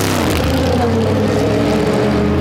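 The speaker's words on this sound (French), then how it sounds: "c'est un V8 Atmo, avec genre une redline bien paresseuse par rapport au reste de la concu" A NASCAR Cup Series car with a naturally aspirated V8 roars past on track, a loud, dense, harmonic engine drone holding steady for the whole moment.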